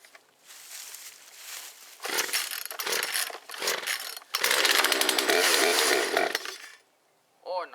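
A chainsaw being sharpened starts and runs in short loud bursts, revving unevenly before a sustained roar that cuts off, heard up close with brief pauses between.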